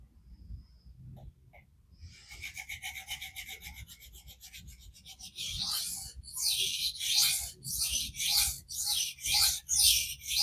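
A Kershaw Iridium folding knife with a D2 steel blade is drawn across a vitrified diamond sharpening stone, giving a steady series of close, gritty rasping strokes that start softly and grow louder and more even in rhythm.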